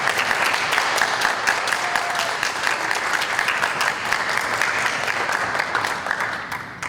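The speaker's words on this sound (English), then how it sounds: "May we get another round of applause from the audience?" Audience applauding at a school board candidate forum, a dense, steady clapping from a sizable crowd that carries on for several seconds before beginning to fade.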